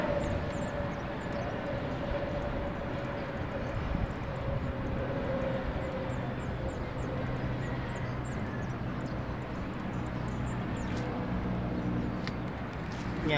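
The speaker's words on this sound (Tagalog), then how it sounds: "Ayan, may dumadaan na aeroplano." An airplane passes overhead above a rooftop garden, a steady distant engine roar that holds throughout under faint outdoor ambience.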